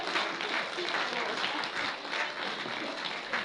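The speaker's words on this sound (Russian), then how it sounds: "Давайте ей подарим кучу, море, огромное море аплодисментов." A large audience at a garmon accordion festival concert in Dubrovo, Lipetsk region, gives steady, dense applause that holds evenly throughout with no break.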